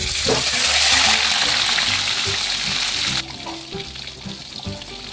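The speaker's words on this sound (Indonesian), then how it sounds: "Oke, sekarang aku akan goreng sisanya." The remaining pieces of fish sizzle loudly in a pan of hot oil, a continuous close hiss with scattered crackles. It drops to a quieter, gentler frying sound partway through, with no voices.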